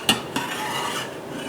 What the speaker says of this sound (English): start ladling the solidified curd into our cheesecloth lined strainer